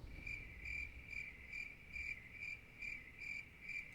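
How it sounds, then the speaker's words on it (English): A cricket chirping sound effect repeats in a steady rhythm of short trilled pulses, about two per second, faint but clear over a low background hum, with no talk. "just the cricket sound effect."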